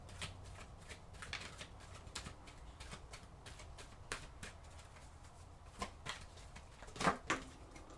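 Oracle cards are drawn and shuffled by hand, a quiet run of soft riffling flicks and papery taps, with a few sharper snaps near the end.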